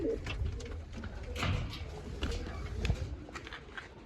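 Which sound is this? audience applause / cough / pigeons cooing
pigeons cooing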